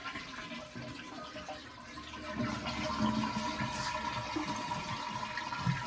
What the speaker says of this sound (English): And then we're going to flush the water out.